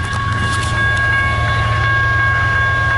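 Westbound CN long-haul manifest freight train passing close by, a loud steady rumble with faint rhythmic wheel clatter and high metallic squeal tones throughout, no talk.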